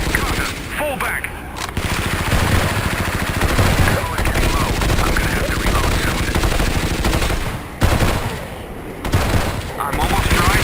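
Dense automatic gunfire in an animated zombie-survival story fills the whole stretch, a continuous loud rattle of rapid shots with brief gaps near the start and toward the end.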